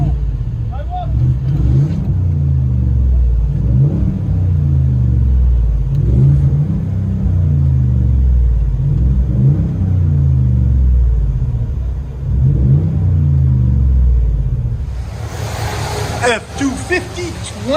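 A 2020 Ford F-250 pickup with the 7.3L gas V8 and a Flowmaster Outlaw exhaust rumbles loudly in a steady series of deep revs lasting most of the stretch, with a brief burst of higher noise near the end.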